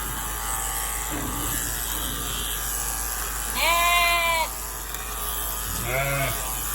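A steady electric buzz of shears runs throughout while Valais Blacknose sheep being shorn bleat loudly twice nearby, with people talking faintly in the background.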